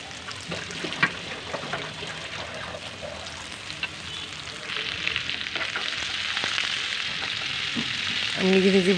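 Two handfuls of chopped onion fry in a frying pan with a crackling sizzle and occasional scraping stirs, the hiss swelling louder toward the end.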